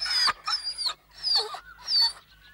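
A cartoon dog gives a series of four high, drawn-out, whining yelps, loud and close with short pauses between, and no talk over them.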